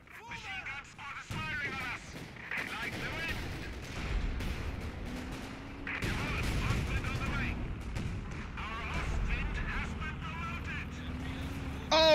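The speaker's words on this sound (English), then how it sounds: "props to whoever just hit that with a Stuka strike" Heavy explosions from a Stuka dive-bomber strike in Company of Heroes 2 boom and rumble amid scattered gunfire and battle noise, with voices talking over the din.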